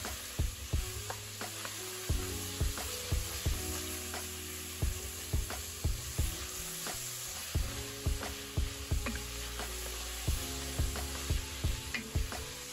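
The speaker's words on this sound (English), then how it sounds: "we're just sauteing this to get the flavor" Chopped vegetables sizzle steadily in a hot pan, sauteed as a flavor base for beef short ribs, with repeated stirring scrapes and clinks over a constant close frying crackle.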